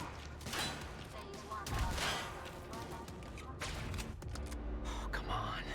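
Gunfire from the video game Quantum Break: dense, overlapping bursts of shots rattling steadily throughout at a loud, close level, mixed with game noise and voices talking over the action.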